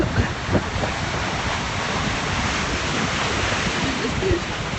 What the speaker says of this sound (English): The sound of the sea is getting louder and louder